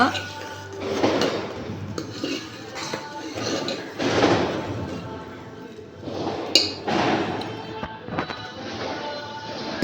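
White sesame seeds stirred in a pan for kajjaya, a Diwali sweet, giving steady scraping and clinking of a utensil against the pan with some louder knocks, close and continuous.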